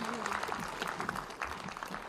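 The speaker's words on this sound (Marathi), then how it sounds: "जरा जोरा टाळ्या होणं गरजेचं आहे." Audience applause at the inauguration of a Marathi literary conference, steady clapping from a crowd at moderate distance with a hum of voices mixed in.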